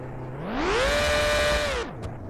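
A Formula 1 car in the BeamNG.drive video game revs loudly with a synthetic engine whine. The pitch sweeps up, holds a steady high tone for about a second, then drops back down.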